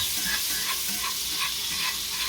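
Butter melts in a pan as the base for a roux for Salisbury steak, giving a continuous soft, even sizzle and crackle, fairly quiet and steady, with no voices.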